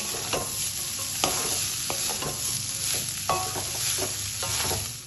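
Cut potatoes fry in hot oil for a Bengali egg and potato chorchori, a steady close sizzle broken by repeated scraping stirs of a spatula through the pan, with no voices.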